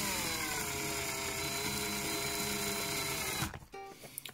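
A drill bores a small pilot hole into a plate for an injection mold, a steady high-pitched whine with a sliding tone running for about three and a half seconds before it stops abruptly, leaving faint clicks and handling noises.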